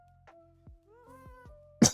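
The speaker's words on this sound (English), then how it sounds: "Oh, cough." A single short, harsh cough bursts out near the end, loud and close, after a stretch of quiet electronic Minecraft game tones.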